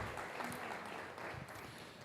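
A church congregation applauds, a faint, steady wash of many hands clapping at a distance for a couple of seconds.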